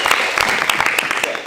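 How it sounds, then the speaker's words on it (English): Audience applause at a student common room meeting, dense broadband clapping that stays steady and loud through the short burst, with no voices over it. "Big round of applause"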